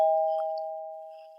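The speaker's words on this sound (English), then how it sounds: "There's a doorbell ring." A doorbell gives a single clear electronic chime that holds one steady tone and slowly fades, heard alone in a quiet room.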